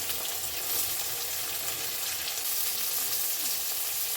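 Chopped tomato with turmeric and salt fries in a pan, giving a dense, continuous close sizzle with soft stirring underneath and no pauses.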